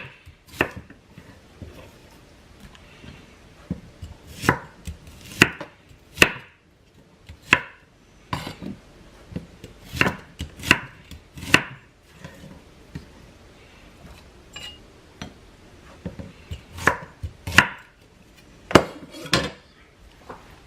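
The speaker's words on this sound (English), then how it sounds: "And then I cut my shallot." A knife chops a shallot on a board in irregular sharp knocks, sometimes quick doubles, loud and close, with short pauses between strokes and nobody talking.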